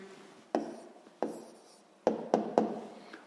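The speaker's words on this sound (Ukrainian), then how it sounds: "Гаразд, ну що ж, записуємо відповідь." Pen or chalk writing out a math answer by hand, with five sharp tapping strokes, close and moderately loud, each followed by a brief scratch.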